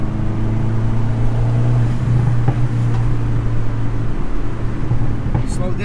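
Fiat car engine droning steadily from inside as it drives the Dragon road, a loud continuous hum with slight shifts in pitch and no talking.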